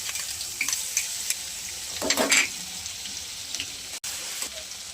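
Garlic and ginger fry in oil in a pan for soup, giving a steady broadband sizzle with a brief louder burst of crackle midway and no talking.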